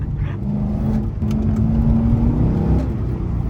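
Corvette C6 Z06 engine pulling hard while driving, a loud, close V8 roar climbing steadily in pitch through a sustained rev before easing off near the end, with no talking.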